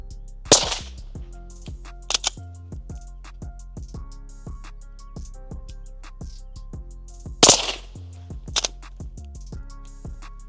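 Suppressed 5.7 gunfire through a Replicator ACER suppressor on a rifle with a forced-reset trigger: close, sharp reports in two rapid bursts of several shots each, separated by quieter single cracks.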